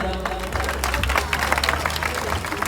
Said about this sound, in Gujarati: એકવાર તાળીઓથી વધાવી દેજો જોરદાર